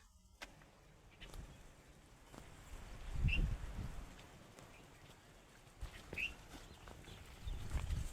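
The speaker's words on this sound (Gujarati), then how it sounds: "હવે આવે છે મયુર બળદ લઈને પછી નીકળીએ" Bullocks being led out in a village to be yoked to a cart, their hooves thudding on the ground in irregular soft steps, faint and close, with quiet outdoor background.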